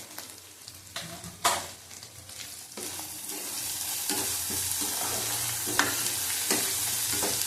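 Prawns with Kashmiri chili powder stir-frying in a pan for a milk-based prawn dish, a steady close sizzle with scraping and stirring clacks from a spatula, no talking.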